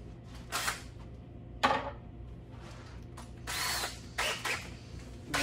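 Several short bursts of a power drill pre-drilling into a commercial cabinet spin up and stop, close by, with brief pauses between them against a low steady hum.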